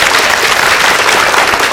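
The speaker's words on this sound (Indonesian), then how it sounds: "Tepuk tangan buat Rina" A studio audience bursts into dense, loud applause, a steady wash of clapping that holds through the short moment without any talk over it.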